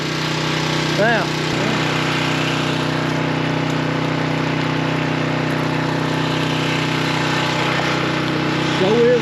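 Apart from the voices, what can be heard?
old Kubota tractor engine running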